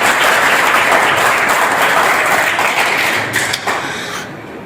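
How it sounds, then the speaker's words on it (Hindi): Loud, dense applause from a live poetry-reading audience in Hindi, steady throughout and thinning slightly toward the end. "ताली जरूर बजाया जाए"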